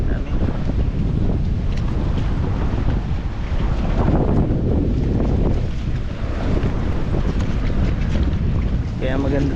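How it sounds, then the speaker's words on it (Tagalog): Strong wind at a coastal wind farm in Ilocos buffets loudly against the microphone, a continuous roaring gust that swells and eases; a voice cuts in briefly at the end. "Malakas ang hangin."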